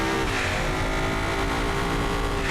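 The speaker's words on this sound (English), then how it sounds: "the V12 definitely is what makes it a G2" A powerful V12 car engine in the video game Automation revs loudly and continuously, a high-pitched mechanical roar that holds steady throughout.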